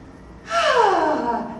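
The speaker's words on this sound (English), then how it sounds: "Block nasal passage, open other nasal passage, and sniff." A deep nasal sniff drawn through one nostril with the other blocked: a single loud, close inhale lasting about a second that sweeps downward in pitch, with no talking.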